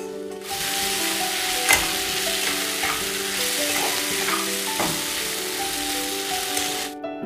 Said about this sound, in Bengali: এবার পুঁই মিটুলি ও আলুগুলোকে খুব ভালোভাবে কষিয়ে নেব।